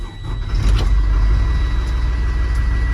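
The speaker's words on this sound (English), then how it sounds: "Now I turn on my vehicle." A truck's engine turns over and starts inside the cab before a brake test, settling into a loud, steady low idle rumble with no one talking.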